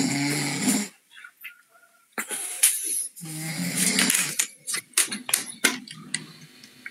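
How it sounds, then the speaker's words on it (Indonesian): A person snores loudly up close, several rasping breaths broken by brief pauses, with a few sharp clicks and knocks in between. "Ini nggak usah ngorok nih."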